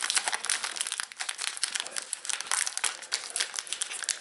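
A snack wrapper crinkles continuously as it is torn open by hand, with crisp, close, fairly quiet plastic rustling and no talking.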